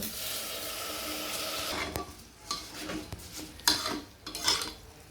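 Rice being stirred into a fried pavta bean mixture in a pan, a soft sizzle fading into a few scraping, clinking stirs of a spoon against the pot, quiet and close.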